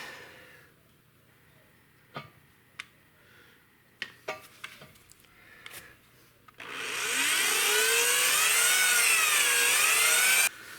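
A power drill whirs loud and steady for several seconds, its pitch wavering slightly, after a stretch of quiet clicks and tool handling.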